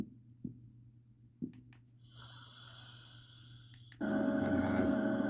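Heartbeat setting on a baby white noise sound machine, giving a few soft, low thumps in a faint steady hum before a brighter tone and louder noise switch on.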